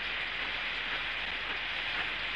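Steady rain falling, a soft continuous hiss of drops on a surface, even and fairly quiet throughout with no talk.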